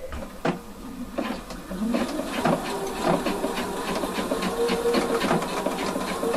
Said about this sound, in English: When I do that, I kind of stitch it in a zigzag way